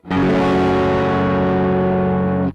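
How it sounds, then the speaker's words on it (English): A single distorted electric guitar chord rings out loud and sustained, then fades away. "I got some distortion on, so it sounds more like the original."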